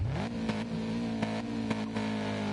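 Race car engine in a racing video game idling then revving up and holding a steady high drone during a practice start at Daytona, with a few brief clicks over the continuous tone.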